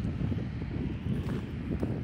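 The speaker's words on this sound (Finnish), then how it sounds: "Pääsispä johonkin tuulen suojaan vaan tästä." Gusty wind blowing steadily past a microphone outdoors by a city street with non-working traffic lights, a dense low rumble buffeting continuously without pause.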